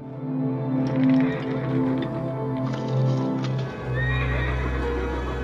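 A horse stuck in snow whinnies and snorts repeatedly with harmonic neighs, close and loud, shifting hooves thudding beneath, then a lower steady drone follows.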